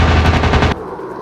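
Rapid machine-gun fire from a fighter plane in the Warplanes video game rattles loud and dense for under a second, then cuts off to a quieter engine hum.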